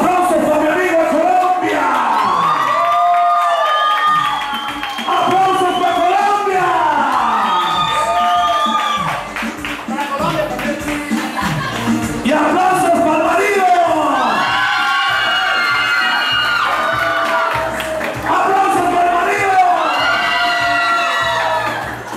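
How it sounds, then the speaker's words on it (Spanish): Crowd at a national karaoke championship held in a Colombian inn, loudly cheering, whooping and shouting, with children's voices among them, a continuous dense roar with overlapping voices. "¡Aplausos para mi amigo Colón!"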